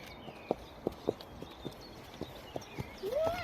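A horse's hooves clip-clop at a slow, steady walking pace during an outdoor cosplay photo shoot at sunset, soft and moderately distant, ending in a brief rising sound.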